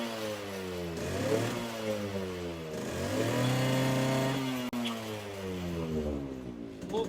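Modified Yamaha RX 100 motorcycle engine revving repeatedly, its two-stroke note sweeping up and down in pitch in several loud blips before settling toward idle, close by with no talk.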